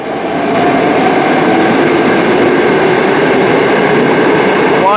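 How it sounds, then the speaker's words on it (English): Moscow Metro subway train pulling out of an underground station, a loud, steady rumble of wheels and cars that holds constant throughout, with a brief screech near the end. "One more train leaving,"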